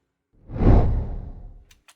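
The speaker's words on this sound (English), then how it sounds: "we have a whoosh." A single whoosh sound effect swells in and fades out over about a second, broad and airy, followed by a couple of faint ticks.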